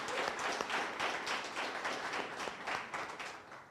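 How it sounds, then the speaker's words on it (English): An audience at a university book launch claps and applauds warmly, a dense, even patter of many hands that holds steady for a few seconds. "Can we please give the warmest round of applause for Sis Bulelwa?"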